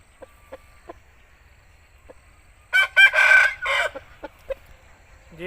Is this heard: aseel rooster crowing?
yes